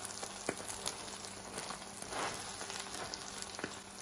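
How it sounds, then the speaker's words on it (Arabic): Bread frying in oil in a pan gives a steady, soft crackling sizzle with scattered small pops, close and fairly quiet, with no voices. "واو شكل الخبز محمر على الزيت عاطي كتير لون حلو ورائع"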